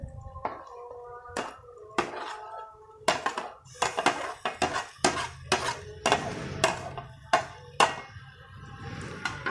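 Mashed eggplant bharta being stirred into cabbage in a cooking pan: irregular clattering taps and scrapes of a spoon against metal, close and fairly quiet, with no talking.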